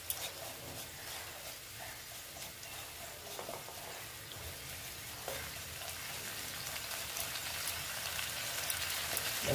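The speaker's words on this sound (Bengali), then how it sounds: "দিয়ে পোস্তটা আমি ভেজে নিচ্ছি তেলটার মধ্যে।" Poppy seeds frying in white oil in a pan, making a steady, fairly loud sizzle and crackle that runs throughout, with occasional soft scrapes and no talking.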